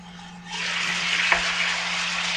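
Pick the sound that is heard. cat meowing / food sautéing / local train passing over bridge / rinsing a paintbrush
food sautéing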